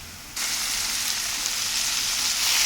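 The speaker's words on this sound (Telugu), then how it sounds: "ఇప్పుడు మనం వెంటనే తోటకూర అనేది వేసేసుకుందాం." Amaranth leaves (thotakura) hitting a hot pan, setting off a sudden loud, steady hiss of sizzling oil that continues without a break, close up, no voices.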